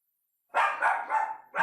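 An indoor pet dog barks several times in quick succession, sharp and fairly close, after a brief silence.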